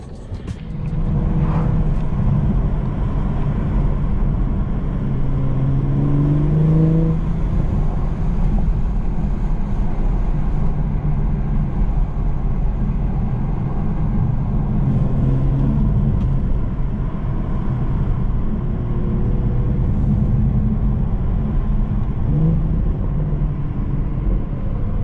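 A tuned BMW 440i drives on a mountain road near Deep Creek, Maryland, its engine a loud, continuous low drone from inside the cabin that rises and falls as the car accelerates and changes gear.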